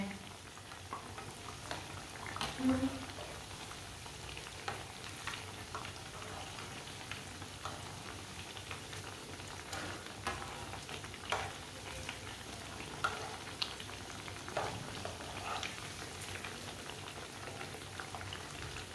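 Turnip kebabs browning in a pan over a stove flame, a soft, continuous sizzle and bubbling with a few faint clicks and no voices.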